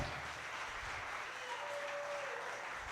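Congregation applause rises for God in a church service, a continuous, even wash of many clapping hands heard from some distance.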